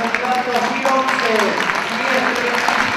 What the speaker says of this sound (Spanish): Con un fuerte aplauso de ejemplar Doberman